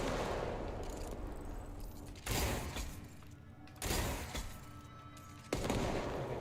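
Gunfire and grenade blasts in the game Control, set in abandoned offices: three sharp, loud bursts land at intervals over a low mechanical rumble and clatter, with no talking.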